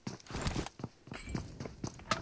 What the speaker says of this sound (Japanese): 足音が。